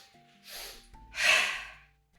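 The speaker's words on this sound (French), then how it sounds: "On va encore faire 10 respirations." Two deep breaths during a yoga session, a shorter airy inhale followed by a louder, longer breath out, close and clear against a quiet room with a faint hum.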